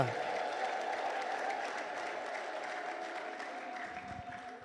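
A church congregation claps in sustained, dense applause that fades slightly toward the end, with crowd voices mixed in.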